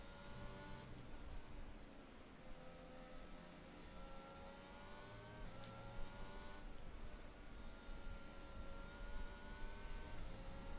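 Engines of F1 22 race cars at the Austria round of a video game league race, several cars whining and revving at high pitch with rising and falling tones, steady and fairly close, with no talk over them.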